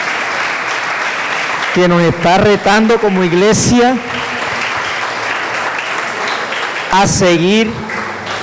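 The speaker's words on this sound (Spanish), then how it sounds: "Vamos a brindar un aplauso al Señor por esta palabra en esta noche" A church congregation at an evening conference applauds in a steady background wash while a preacher keeps talking over it, his voice rising in bursts above the clapping.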